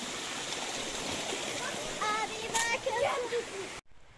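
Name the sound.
small mountain stream flowing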